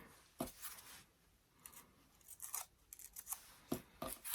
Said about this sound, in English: we're going to come back in with our scissors and just do some random cuts